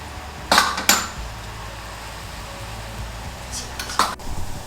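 Butter murukku dough frying in hot oil, a soft continuous bubbling hiss punctuated by a few sharp metal clinks of a utensil against the pan, close up.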